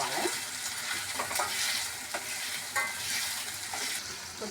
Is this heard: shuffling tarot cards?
no